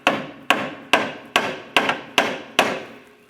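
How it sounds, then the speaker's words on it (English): A hammer taps seven times at a steady, even rhythm against the engine mount of a 2004-2008 Acura TL, each strike sharp and close with a short ringing decay. "go ahead and use the hammer to tap."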